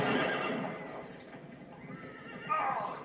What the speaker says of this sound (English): Something scared off a horse.